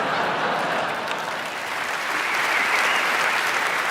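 An audience at a stand-up comedy show applauds with continuous, dense clapping that stays steady and loud throughout.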